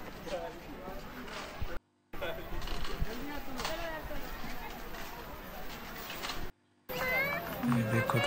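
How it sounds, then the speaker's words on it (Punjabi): A cat meows several times, fairly close, at a bird park in Chandigarh, under and between people talking and moving about; two short silent gaps break the recording. "ਇਹ ਸਾਡੀ ਬਿੱਲੀ"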